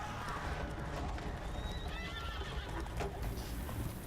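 Roach, Geralt's horse in The Witcher 3, gallops with a steady, dense clip-clop of hooves and whinnies partway through, mixed with busy game ambience and a voice talking over it.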